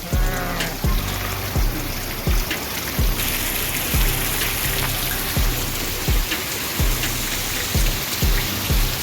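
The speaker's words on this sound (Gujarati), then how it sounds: "7 તારીખનો ફૂલ વરસાદ ચાલુ થઈ ગયો છે" Heavy rain with hail pours down in Kutch, a dense steady hiss with repeated sharp hard impacts roughly every second, close and loud throughout, with no voices.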